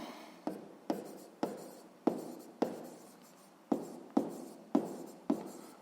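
Pen or pencil writing by hand on paper during a sixth-grade maths exercise, a series of about ten sharp strokes at a regular pace, close and alone.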